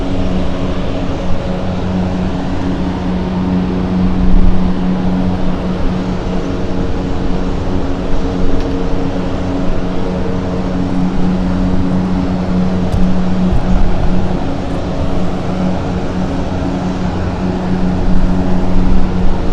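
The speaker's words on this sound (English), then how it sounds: "A320 of Finnair taxiing right in front of us, pushing back here." A Finnair Airbus A320 taxis and pushes back at Helsinki Airport, a steady loud jet engine drone with a low hum running throughout, no voices.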